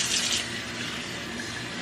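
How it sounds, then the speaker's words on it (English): Tap water runs into a kitchen sink while pieces of chicken are rinsed for meal prep, a steady splashing gush that is a little stronger at the start, with no talking. "I am going to rinse these off"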